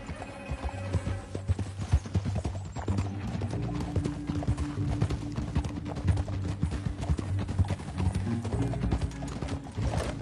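Several horses gallop with a loud, continuous clip-clop of hooves and occasional neighing throughout.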